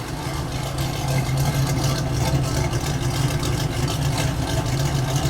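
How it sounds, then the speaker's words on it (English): A 1973 Camaro RS V8 idles with a deep, loud exhaust rumble heard up close from behind the car, steady and pulsing with no talk over it. "Come around back and listen to this exhaust."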